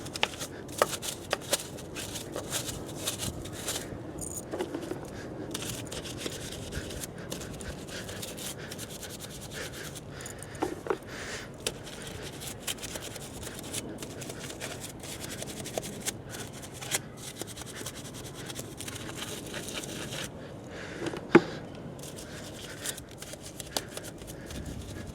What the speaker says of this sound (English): We then use a hard brush to get rid of all the brake dust on the caliper, on the little corners of the alloy